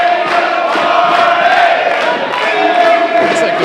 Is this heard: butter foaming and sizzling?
no